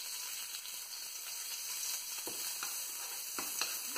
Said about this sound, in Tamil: இதை லைட்டா வதக்கிக்கோங்க.